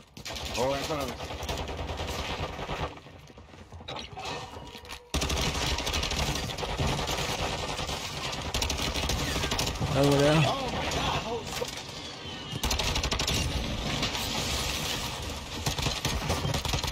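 Rapid submachine-gun fire from a video game sounds in loud bursts, with short pauses between volleys, while a player talks over the action.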